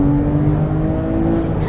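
A Porsche 911 997 GT3 RS drives along twisty back roads, its engine holding a loud, steady drone with constant road and tire noise from inside the car.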